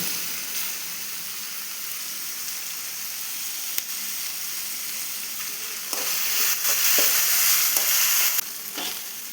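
Curry leaves crackle in hot oil for a soybean curry, a loud steady frying hiss that swells into a fiercer burst of spattering partway through, with no talk.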